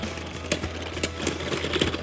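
Two Beyblade Burst tops spin and scrape around a plastic stadium as they lose stamina, giving a steady close whirring hum broken by sharp clacks of contact about every half second.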